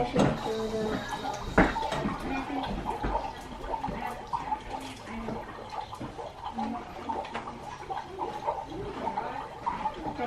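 Water poured from a tap into a lab beaker up to a fill line, a steady splashing, bubbling flow close by with a brief clunk, running throughout.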